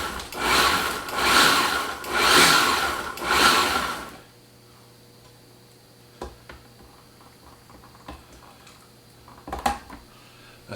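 A food processor pulses crust crumbs with melted butter in four loud, grinding bursts at close range, followed by quiet with faint clicks and knocks.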